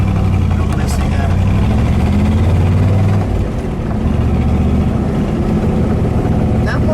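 A 1969 Chevrolet Corvette with an L89 427 engine and four-speed idles through side pipes with a deep, loud, lumpy rumble, close by and continuous, with a brief dip in the beat partway through.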